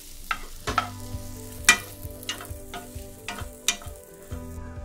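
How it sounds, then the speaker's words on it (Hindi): Bread chunks being sautéed in a spoonful of oil with chopped onion and a green chili, a soft sizzle under scattered scraping and stirring clicks from a spatula in the pan, close up and without talk. "आता ब्रेड त्याच्यावर परतून घेऊया"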